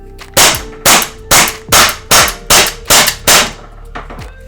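An Umarex T4E PPQ pistol fires eight sharp, loud shots at a steady, rapid rhythm, each a crisp pop close by.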